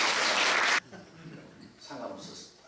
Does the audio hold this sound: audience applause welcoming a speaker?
yes